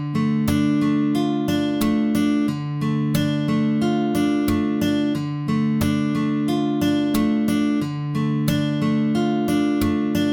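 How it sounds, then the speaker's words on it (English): A sampled guitar arpeggio pattern from Ample Sound Riffer: picked notes roll steadily over sustained chords in an even, repeating cycle, clear and upfront with no talking. "the third sample is not a strumming pattern, but it's an arpeggio"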